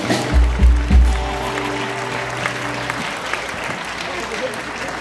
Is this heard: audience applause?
yes